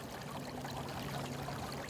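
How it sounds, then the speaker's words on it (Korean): Clear water of a small mountain stream trickles and babbles continuously at close range, an even, steady wash of sound with no talking over it. "이 졸졸졸 시냇물 소리가 예. 꼭 봄이 오는 소리처럼 들려요"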